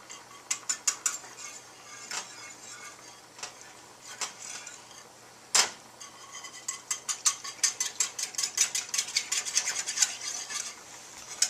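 Whisking half and half into a mixture in a pot, heard as rapid scraping and clinking strokes of a utensil against the metal, sparse at first and then speeding into a steady rhythmic beating, close and fairly quiet.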